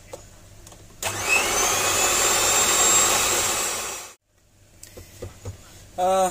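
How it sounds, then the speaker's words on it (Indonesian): An electric mixer whirs loudly into martabak batter for about three seconds, a steady high whine that cuts out abruptly, followed by faint clatter and a brief voice. "langsung kita mixer sekitar 3 menit ya guys"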